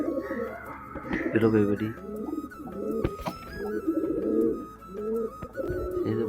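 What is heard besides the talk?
pigeons cooing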